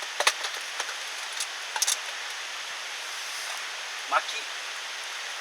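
Steady rain falls at a campsite as a constant soft hiss, with a few sharper drips and taps and a brief spoken word partway through.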